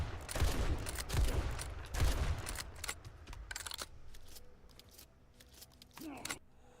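Rapid video-game gunfire from a tower defense game, bursts of shots crackling densely in the first two seconds, then thinning to scattered pops and clinks under faint background game noise.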